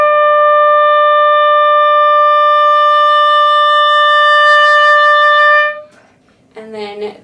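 A sustained oboe tone holds steady for several seconds with a gentle vibrato, stops abruptly, then a brief lower note sounds after a short gap.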